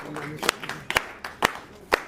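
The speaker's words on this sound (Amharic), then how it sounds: "እስኪ ጭብጨባ ሁላችሁም" Applause from a small audience at a car handover ceremony, with a handful of sharp claps spaced out over about two seconds against a low background murmur.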